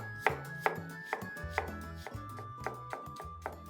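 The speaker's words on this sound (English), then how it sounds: "Let's quickly chop an onion and a couple of more things." Knife chopping an onion on a board for black chana soup, about ten sharp, evenly spaced cuts close up over a steady low hum, no voices.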